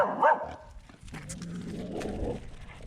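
Dogs bark in a garage or workshop, a couple of sharp barks up front followed by a lower, rougher growl-like sound at moderate distance.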